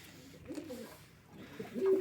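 Tumbler pigeons coo softly in low, throaty, rolling phrases, with faint background noise around them.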